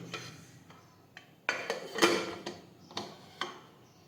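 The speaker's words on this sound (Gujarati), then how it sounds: "હવે આપણે કુકરનું ઢાંકણ છે તે બંધ કરી દઈશું." A pressure cooker lid is fitted and closed, giving a series of sharp metallic clicks and clanks, about seven distinct knocks spread irregularly over a few seconds, close up with no talk.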